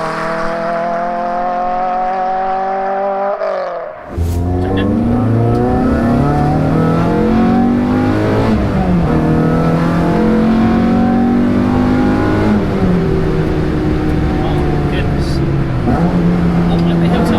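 A Renault Clio 182 track car accelerates hard on a public road, the engine note rising through several gears with sharp climbs and brief dips at each shift, loud and close, with someone talking over it.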